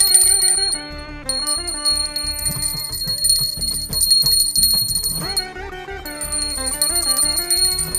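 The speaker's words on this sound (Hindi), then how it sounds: "घंटी भी बजा ली।" Bell tones ring out repeatedly over steady musical accompaniment, bright and fairly loud, with a short dip in the middle before the ringing resumes.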